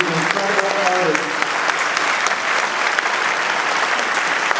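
A concert audience claps loudly and steadily in sustained applause at a tribute concert, with a voice briefly audible over the clapping at the start.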